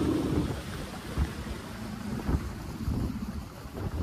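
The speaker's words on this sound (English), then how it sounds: "Headwind right now, like really big headwind." Strong headwind roars across the microphone aboard a microskiff running a 6hp outboard, a steady low buffeting rumble with gusty swells throughout and no talk.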